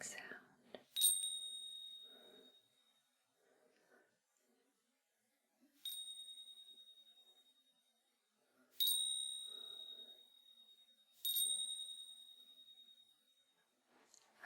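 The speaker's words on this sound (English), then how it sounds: "I like to bring the bells down like this, along the sides, instead of directly in contact with each other" Small bells brushed along their sides rather than struck head-on, ringing four times at intervals with clear sustained tones that shimmer and slowly fade; quiet, close and intimate, with soft rustling between rings and no speech.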